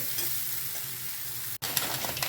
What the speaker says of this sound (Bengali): এবারে ইঁচড়টা বসিয়ে দিলাম রান্না করতে ইঁচড় আর আলু একসঙ্গে ভেজে তুলে নিয়ে রান্না করব